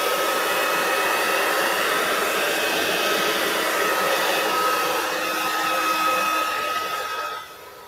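Hair dryer blowing over an acrylic Dutch pour of Liquitex Basics paint, a loud steady whooshing whine that runs nearly the whole time before easing off at the end.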